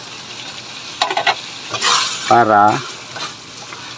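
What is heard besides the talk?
stir-fried fettuccine pasta tossed back into pan with sauce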